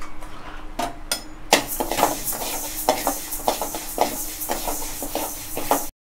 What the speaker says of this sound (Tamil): நான் எடுத்து வச்ச பாசி பருப்பை இதில் போட்டு வறுக்க போகிறேன்.